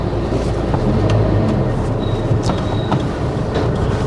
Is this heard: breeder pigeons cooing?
no